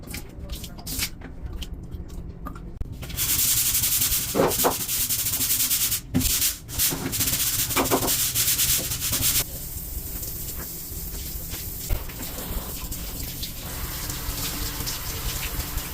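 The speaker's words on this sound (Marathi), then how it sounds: "आता मी जरा वॉशरूम क्लीन करतो." Steady scrubbing and rubbing while a ship cabin washroom is cleaned, close and fairly loud, with the texture shifting partway through and a few brief sharper knocks.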